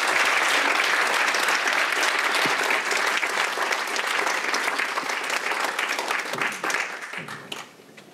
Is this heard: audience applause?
yes